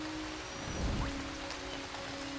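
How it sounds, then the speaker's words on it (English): Steady rain falling in the video game Starbound, a continuous even hiss of drops on a surface running through the whole stretch, with a faint low rumble swelling briefly near the middle. "That stupid rain again."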